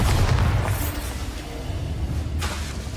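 A Bombarda spell blast in the Hogwarts Legacy video game lands as a deep, heavy boom at the start, rumbling on under dense game noise with a brighter burst swelling near the end.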